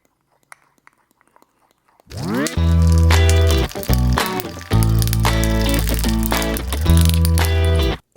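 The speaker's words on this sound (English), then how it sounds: "It does take a little bit of time because it's clumpy when you're first mixing it up" A fork mixes clumpy protein mug cake batter in a mug. After a couple of seconds of near silence, loud, close scraping and squeaky clattering begin and run almost continuously, broken by short pauses.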